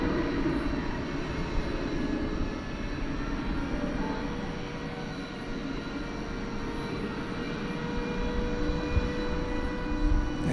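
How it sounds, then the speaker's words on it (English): A Fiji Airways Airbus A350-900 jet at DFW airport at night, giving off a steady, moderately loud broadband engine rumble and hiss that holds even for the whole stretch without clear rises or fades. "There's a look at the Fiji A350-900."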